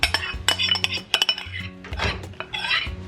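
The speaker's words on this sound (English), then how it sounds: "Grab your tortellini, give them a good toss again" Cheese tortellini tossed in a big mixing bowl with a utensil, giving irregular clinks and clatters against the bowl in quick bursts, close and fairly loud, with no talking.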